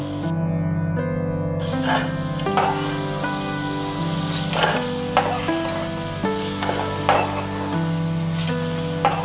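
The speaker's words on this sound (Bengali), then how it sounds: "আমি আলুগুলো খুব ছোট ছোট করে একদম পুরোটাই ভেজে নিয়েছি" Small diced potatoes fry in a pan for a fig curry, making a continuous moderate sizzle broken by periodic louder scraping stirs.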